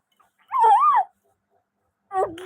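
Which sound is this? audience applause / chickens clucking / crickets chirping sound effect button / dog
dog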